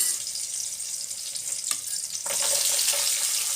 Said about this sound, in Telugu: ఇవైతే కొంచెం ఫ్రై అవ్వనివ్వాలా.